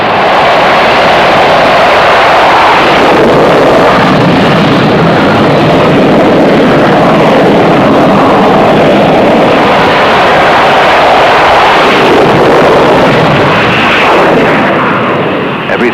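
A military jet roaring through a catapult launch from a standing start, a continuous loud, broadband rush of engine thrust sustained throughout, no voices.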